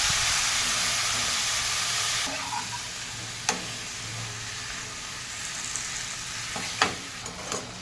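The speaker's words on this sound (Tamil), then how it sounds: "இதுலேயே நம்ம வந்து மஷ்ரூமை நல்லா வதக்கிக்கலாம்." Mushrooms sautéing in oil for a mushroom gravy give a steady close sizzle that drops lower after about two seconds, broken by a few sharp clicks of a spoon against the pan, with no talking.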